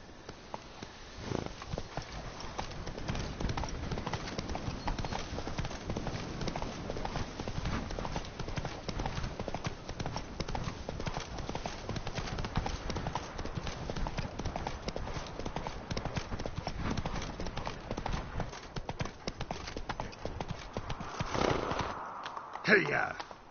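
Horse hooves clip-clop steadily in The Witcher 3: Wild Hunt, Blood and Wine expansion, a dense continuous trot running under game sounds and voices, ending with a brief louder flurry.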